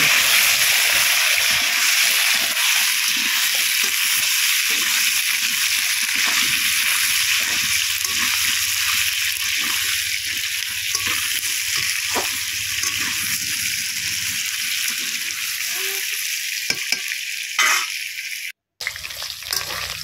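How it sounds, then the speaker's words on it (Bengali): Potatoes fry in hot oil left from frying a fish head and are stirred for a Sundarbans fish recipe. A steady, loud sizzle runs throughout with irregular scraping and clattering of the stirring, and a brief dropout near the end. "এবার ওই তেলের মধ্যে দিয়ে দেবো আলুগুলো। আলুগুলো দিয়ে খুব সুন্দর করে নেড়ে চেড়ে নেব।"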